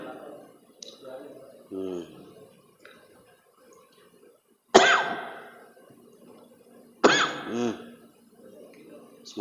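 A person coughs twice at close range. The coughs are loud and sudden and come about two seconds apart, with quieter throat noises and clicks before them.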